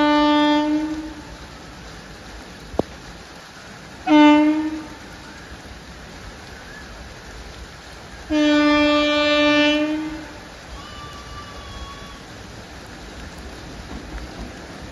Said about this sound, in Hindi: काफी क्रॉल करके जो ट्रेन है ना वो आ रही है।